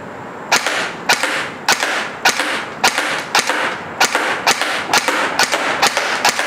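An airsoft gun fires at targets in quick single shots and short bursts, a dozen or so sharp, snappy cracks in an uneven rhythm, close and loud, with no talking.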